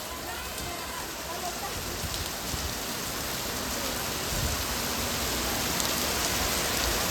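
Steady, dense rain pouring down, a constant hiss of drops on surfaces that never lets up and swells slightly toward the end.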